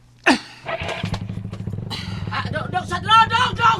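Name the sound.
motorcycle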